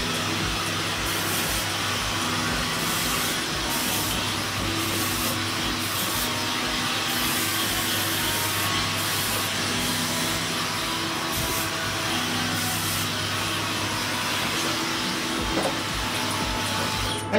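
A hair dryer blows steadily and continuously at close range while a haircut is styled in a Sapporo hair salon, a constant broadband whoosh with a faint motor hum, loud and unbroken, with no talking.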